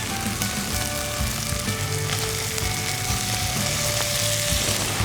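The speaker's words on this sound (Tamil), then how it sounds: "இப்போ நம்ம மட்டன் போட்டோம்." Mutton sizzles loudly in masala with mint and coriander for yakini pulao, a steady close crackle and hiss with occasional stirring scrapes and no voices.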